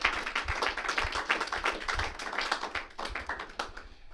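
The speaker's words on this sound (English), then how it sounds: "a round of applause fully deserved for both players." Dense applause from a crowd after a professional pool final at Newport, steady many-handed clapping, loud and continuous, with no talk over it.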